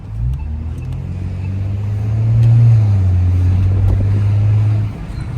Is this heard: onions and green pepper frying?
no